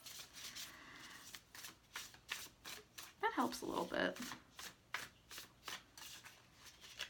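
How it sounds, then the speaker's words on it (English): Light Seer's tarot cards being shuffled by hand, a run of quick riffling bursts in a rhythmic series, close and crisp, with a person talking partway through. "I don't usually like to shuffle my deck upside down"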